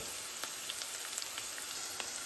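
Onions fry with whole cloves, cinnamon and chillies in a pan, making a soft, continuous sizzling hiss dotted with faint crackles and pops. It is quiet and even throughout, with no speech.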